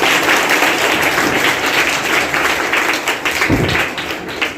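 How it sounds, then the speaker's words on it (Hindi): Loud, dense applause fills a hall as an audience claps for a student at a talk, sustained throughout and easing slightly toward the end. "चलिए इनका भी जोरदार ताली बना चाहिए"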